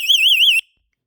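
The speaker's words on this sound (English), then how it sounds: "Your alarm was triggered by right, living, room, window." A Vivint home security alarm sounds a loud, warbling electronic tone for about half a second, then cuts off abruptly into silence.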